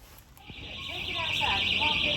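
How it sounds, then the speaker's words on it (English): An alarm goes off at a builders yard, a steady high electronic tone that begins about half a second in and keeps sounding. People talk underneath it. "It'd have to be me that sets the fucking alarm off"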